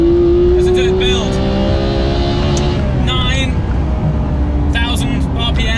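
A Porsche GT3 engine revs high toward 9,000 RPM, a loud rising tone in the cabin that holds and fades, with someone talking over it.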